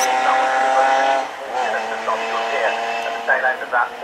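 Saloon race cars at Oulton Park scream past, engines rising and falling with gear changes and passing whooshes under a commentator's voice.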